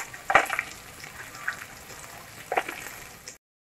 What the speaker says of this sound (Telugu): కట్ చేసుకున్న ఆనియన్స్, పచ్చిమిర్చి, జీడిపప్పు వేద్దాం.